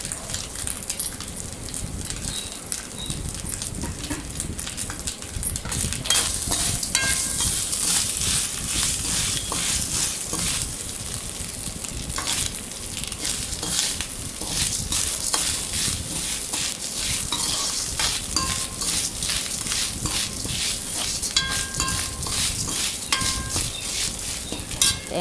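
Grated coconut sizzles in a pan while a utensil scrapes and stirs it continuously, making a dense, even hiss broken by constant rapid scraping strokes throughout.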